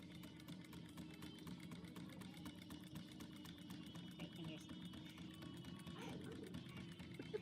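A sewing machine stitches 3/4-inch single-fold backing onto a Sprinter van window covering, a steady rapid mechanical whir running continuously at close range under a low hum.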